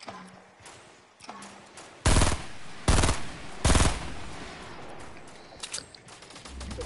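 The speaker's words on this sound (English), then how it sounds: "Oh, someone's shooting." Gunfire in Fortnite: three loud, sharp bursts of automatic fire about a second apart, followed by a few fainter scattered shots in the distance.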